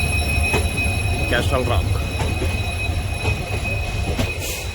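A Vasco–Bengaluru train passes the Castle Rock crossing with a steady, loud rolling rumble and sharp wheel squeals, while people talk over it throughout.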